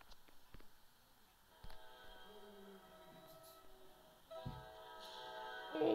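Train horn from the Roblox game Trains Vs Cars 2 as a train hits cars, with sustained horn tones, sharp impact clicks and crashes at intervals, and a final harsh burst, all fairly quiet.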